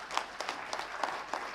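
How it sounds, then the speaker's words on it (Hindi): An audience at a full-day seminar in a hotel gives applause to the speakers, a brief burst of scattered hand claps from a moderate-sized crowd, fairly close and steady. "तालियां बजनी चाहिए उन दोनों के लिए।"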